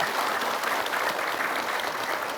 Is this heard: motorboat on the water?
no